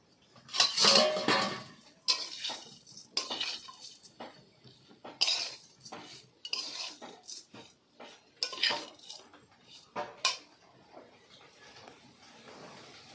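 A metal lid coming off a cooking pot while making semai, a string of close clanks and clinks of metal cookware spread unevenly over several seconds, with no talk.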